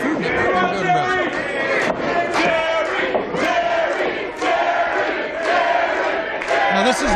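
A wrestling crowd at the IWC High Stakes 2 show chants a wrestler's name in loud, rhythmic bursts that fill the hall, with a voice talking over the chant.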